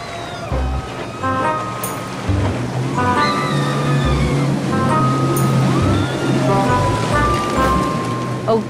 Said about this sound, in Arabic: احنا قاعدين على البحر، المفروض تبقي مبسوطه